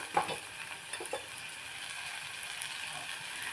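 Vegetables for masala rice sautéing in a pan with coriander powder: a steady, soft sizzle with a few clinks of a stirring spoon near the start, no voices.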